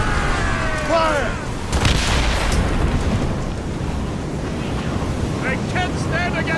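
A deep cannon boom from a ship broadside in the naval combat of Assassin's Creed Rogue, rumbling over steady wind and sea noise, with shouted crew voices before and after.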